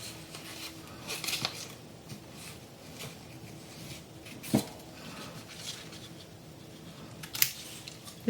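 Scissors cut a paper letter up close: a series of soft, quiet snips at irregular intervals, with a couple of sharper cuts standing out against faint room noise.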